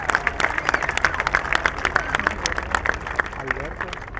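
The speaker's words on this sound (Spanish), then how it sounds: "Le vamos a un fuerte aplauso al jugador Jesús Alberto Josejo Zazueta." Applause from an audience at a winter football league awards ceremony honouring a player, with clapping sounding close and in uneven bursts, and voices talking over it throughout.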